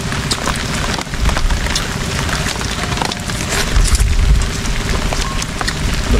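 Steady rain pours down outdoors where food is being cooked without a roof overhead, a dense, continuous hiss of drops with no pauses and no talking.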